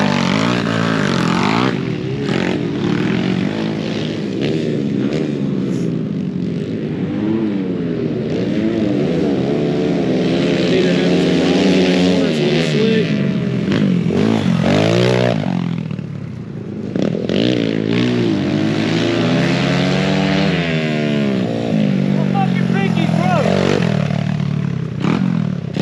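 Small pit bike engines whine and buzz continuously at an amateur pit bike race on a dirt track compound, revving up and down as bikes pass close by, loud and steady throughout.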